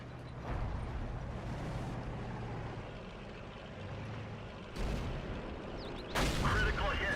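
A tank cannon shot in World of Tanks, heard as a sudden loud boom near the end over a steady rumble of engine and battle noise, with an earlier sharp burst midway and someone talking throughout.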